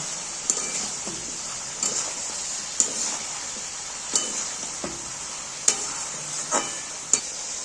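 Potatoes and spices sautéing in a pan for a Bengali dish, a steady frying hiss broken by sharp intermittent spatula scrapes and clinks against the pan at irregular intervals, close and moderately loud, no voices.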